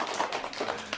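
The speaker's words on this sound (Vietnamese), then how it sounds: "Vỗ tay nào" An audience at a school charity event clapping, a dense burst of hand claps lasting about a second, close and fairly loud with no talking over it.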